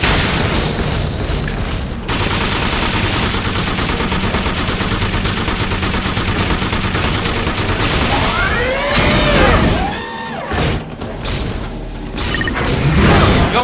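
Sustained heavy gunfire is aimed at a gorilla boss in the Binary Domain video game, with loud continuous bursts, booming impacts and mechanical whirs, briefly broken up near the end.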